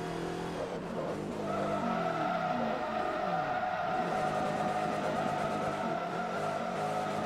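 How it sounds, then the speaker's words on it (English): Race car in Forza Motorsport 3 spinning out under heavy braking after a too-quick downshift, a steady engine drone with tire screech sweeping through, loud and continuous without talk. "Completely spun it out of that heavy braking zone there"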